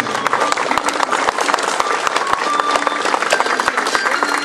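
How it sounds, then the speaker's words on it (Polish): A crowd claps and cheers at an outdoor town festival in Wielichowo, Poland, celebrating the town's charter from 1429. The applause is dense and continuous, with sharp individual claps standing out throughout. "Wielkie brawa"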